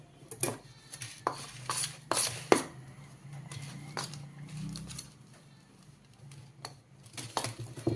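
Karanji dough ingredients are being mixed in a bowl, giving quiet scattered clinks and scrapes of a utensil against the bowl with brief soft stirring rubs in between, fairly close but low in level.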